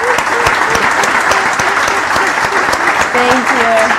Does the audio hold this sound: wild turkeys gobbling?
no